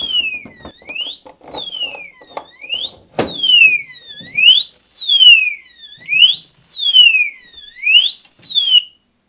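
Alarm of an ADIMO 2.5 cubic ft safe with an LCD keypad: a loud electronic siren sweeping up and down in repeated wails, preceded by a few short clicks and beeps, with no voices.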